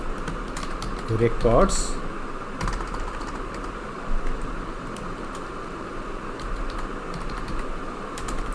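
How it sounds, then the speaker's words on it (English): Computer keyboard typing during a Power Platform portal session, a loose run of light clicks and clacks over steady room hum, with someone talking over it. "Let me type down here account"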